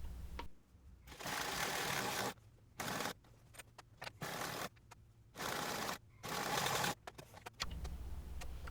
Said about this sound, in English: Next, we will stitch along the folded edge of the placket.